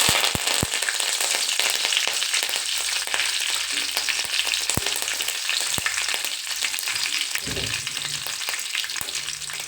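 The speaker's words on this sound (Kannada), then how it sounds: "ಮತ್ತು ಅದು ಚಟಪಟ ಅಂತಂದು ಹೇಳಿ ಅಂತಿದ್ದಂಗೆ ನಾನು ಕರಿಬೇವನ್ನು ಹಾಕ್ಕೊಳ್ತೀನಿ." Mustard seeds, cumin and curry leaves crackle in hot oil for pulao, a dense continuous fizz peppered with sharp popping snaps, close and fairly loud, with no voices.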